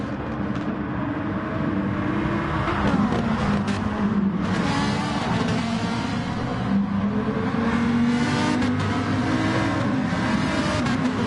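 A Lamborghini race car engine in Gran Turismo Sport at Tsukuba holds a loud, close, continuous drone, rising and falling in pitch through gear changes and throttle lifts, with other cars faintly mixed in.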